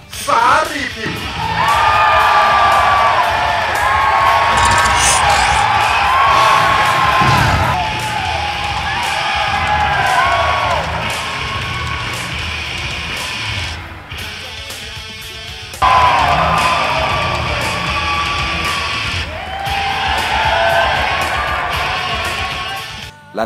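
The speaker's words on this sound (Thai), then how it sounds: "เรียกเสียงกรี๊ดบรรดาแฟนคลับมากมายเลยทีเดียว" Fans scream, whoop and cheer in a large indoor crowd at the Police United 2015 football club launch in the Future Park Rangsit mall, loud and sustained in waves, with an amplified announcer's voice over it.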